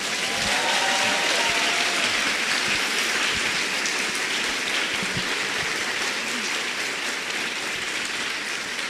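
A large audience at a film masterclass bursts into sustained applause, a thick even wash of clapping that holds steady throughout, with a faint voice briefly near the start.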